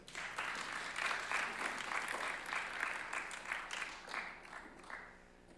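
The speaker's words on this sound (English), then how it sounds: "Let's give a round of applause for Terry." Audience applause at a get-to-know-you event, a steady round of clapping from a modest crowd lasting several seconds, moderately loud and fading slightly at the end, with no talk over it.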